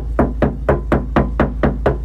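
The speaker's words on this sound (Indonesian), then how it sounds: "Nah ini saya ketok" Knuckle knocks on the body panel of a Hyundai Stargazer during a full sound-deadening install: nine evenly spaced, hollow raps, close and fairly loud, with no talking.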